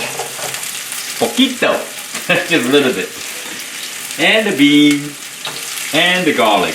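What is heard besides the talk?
Chinese sausage sizzling as it renders in a pan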